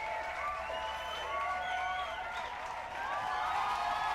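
A crowd in an underground club in the VR game Futurejam cheers and applauds, a faint continuous roar of claps and whoops under bright synthetic warbling music tones.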